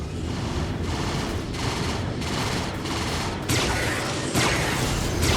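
Ballistic cannons firing from a ship in Star Citizen, a loud, dense stream of rapid shots in sustained bursts with short breaks, the barrage swelling louder toward the end, with no talk over it.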